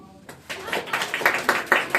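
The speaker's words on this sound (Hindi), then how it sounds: "मारो ताली।" Students in a classroom clap together during a ninth-grade maths lesson, a quick run of about eight rhythmic, fairly loud claps starting after a brief quiet moment.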